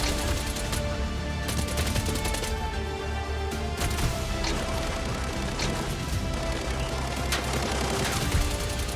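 FAL battle rifle fire in the shooter Arena Breakout, a dense, continuous stretch of loud gunfire and impacts running the whole time with sharp cracks and clatter, no talk.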